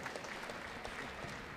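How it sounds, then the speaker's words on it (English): Applause ripples through a room of spectators watching a British Junior Open under-15 squash final, a steady, moderately faint patter of many hands continuing evenly without a break. "That got a round of applause in the Squash TV"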